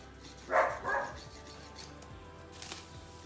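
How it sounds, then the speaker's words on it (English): A dog barks twice in quick succession from the background of a home kitchen, faint and somewhat distant, then a short faint yip follows a moment later over low room noise. "He's given us a congratulations bark in the background."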